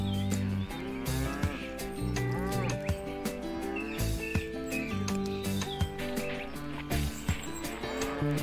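Cattle mooing in the colonial-era video game Tropico, several drawn-out moos and bird chirps layered over a full, continuous game music bed, with no talking.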